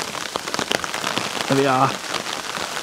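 Rain patters on a tarp outdoors as a steady wash of drops, while someone talks over it and a brief tonal sound rises partway through.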